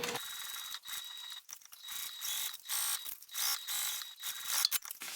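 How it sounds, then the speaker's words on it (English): A sewing machine runs a line of top stitching along the bottom piece of a fabric wristlet gusset, giving a soft mechanical ticking and whirring in short bursts with brief pauses, fairly quiet and close. "I'm going to go ahead and top stitch on that bottom piece"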